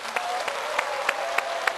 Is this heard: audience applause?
yes